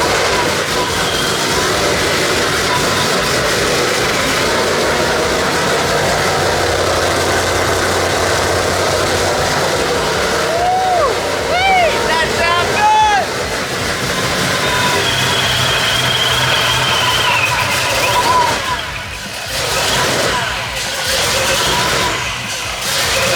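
An 800 hp Shelby GT500 runs through its new exhaust on first start-up, a loud, steady engine roar with rough idle texture throughout, a few brief higher whine or chirp sounds partway, and a slight dip near the end.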